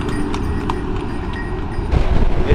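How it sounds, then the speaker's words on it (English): Hooves of a horse pulling a cart clip-clop on a road in northern India near Vrindavan. The steady, fairly close trotting rhythm runs over traffic noise and gets briefly louder near the end. "A horse cart there."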